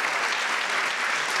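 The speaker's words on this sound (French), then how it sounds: "Je crois qu'on peut l'applaudir." Audience applause at a book talk and signing by author Yasmina Khadra, a dense, even wash of many hands clapping steadily at moderate loudness with no voices over it.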